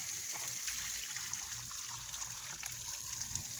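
Bluegill fish fillets rinsed under running water, a faint steady trickle and splash with light handling sounds, no talking.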